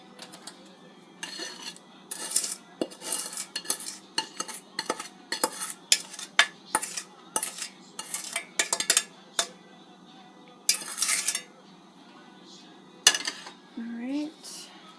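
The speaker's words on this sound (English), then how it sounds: "now I will just put them in my pie dish here." Cooked apples are spooned from a pan into a pie dish, with a run of light metallic scrapes and clinks of a spoon against cookware, irregular and close, fairly quiet, ending with a short voice.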